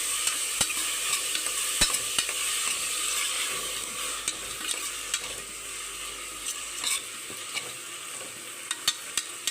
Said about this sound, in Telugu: ఇప్పుడు ముందుగా నానబెట్టుకున్న అలసందల్ని వేసుకుందాం. వేసి దీన్ని బాగా మిక్స్ చేసుకుందామండి.